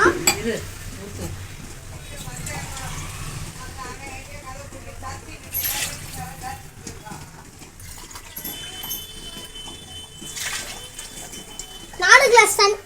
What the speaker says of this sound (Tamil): 2 கிளாஸ் தண்ணி ஊற்றிக்கலாம்.